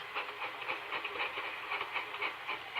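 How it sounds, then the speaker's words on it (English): Rapid, steady steam chuffing with a rhythmic hiss as James the steam engine picks up speed, loud and continuous with no talking. "Now listen what James' chuff sounds like when he goes faster."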